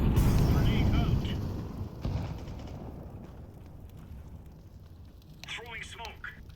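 A grenade detonates in a video game with a loud, close boom at the start that rolls into a long rumbling decay, while players shout over it.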